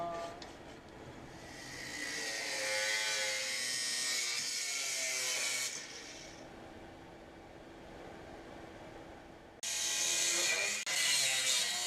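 A power tool cuts the rear internal support structure of an Audi Sport Quattro, giving a continuous high-pitched grinding whine that stops for a few seconds, then resumes loudly near the end.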